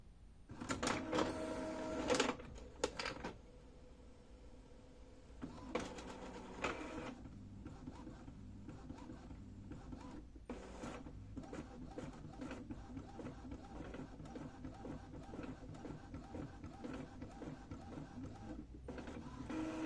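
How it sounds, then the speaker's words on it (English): An Epson L3256 inkjet printer runs a nozzle check print, with whirring carriage passes and clicking feed mechanics at the start, then a long, even mechanical hum and chatter at moderate volume. "Now the nozzle check pattern has been printed."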